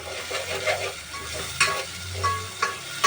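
Tomatoes, onion, ginger and garlic fry in a pan for a crab curry, a steady sizzle punctuated by a few sharp stirring scrapes and clinks, close and with no talking.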